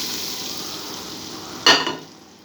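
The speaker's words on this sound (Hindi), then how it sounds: "तड़का हमारा रेडी है। अब हम मसूर में डालते हैं।" Hot tadka tempering hits masoor lentils with a sudden loud sizzle that flares sharply and then fades, after a quieter stretch of background frying hiss.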